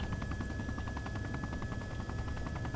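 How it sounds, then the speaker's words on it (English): Helicopter in the video game Arma 2, a steady loud rotor thump and engine drone throughout as it comes down to land, no speech. "We're bringing the chopper down"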